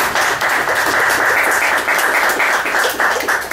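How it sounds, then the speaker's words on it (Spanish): An audience at a community political talk and assembly claps steadily for a speaker. The applause is a dense, continuous patter of many hands, close and fairly loud throughout. "un aplauso para la compañera"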